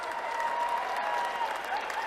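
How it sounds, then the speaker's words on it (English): Steady applause from a crowd at an MMA fight event, continuous and moderately loud, with a faint voice or whistle tone running underneath. "Nice round of applause for the batterer himself, Kerry Latimer, please."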